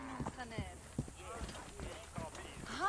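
A horse galloping with rhythmic hoofbeats in the action video game Assassin's Creed Origins, under shouting voices and game dialogue.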